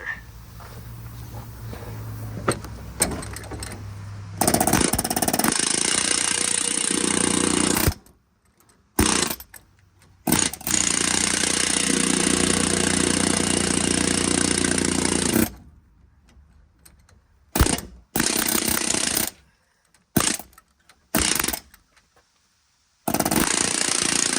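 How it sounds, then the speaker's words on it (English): A pneumatic air hammer rattles loudly on a bolt while a leveling kit is fitted to a 1500HD truck, in repeated long bursts broken by short silent pauses between runs. "A good air hammer is your best friend."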